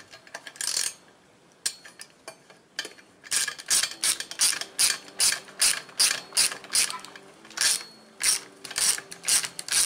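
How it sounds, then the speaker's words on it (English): Quarter-inch drive ratchet at work during Husqvarna 576XP chainsaw crankcase splitting: a few scattered clicks, then a fast, steady run of crisp, close ratcheting bursts repeating in an even rhythm. "just like my little quarter inch drive ratchet, right there in front of me"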